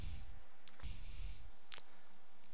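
A computer mouse clicks on a Next button during a Microsoft Deployment Toolkit 2010 task sequence setup; two or three faint, sharp clicks spaced apart over a low steady room hum, no talking.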